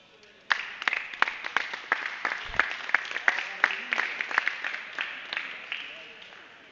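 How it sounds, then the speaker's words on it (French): A burst of applause at a poker tournament final table starts suddenly and continues with sharp individual claps, then gradually fades; a small audience, fairly close. "on applaudit"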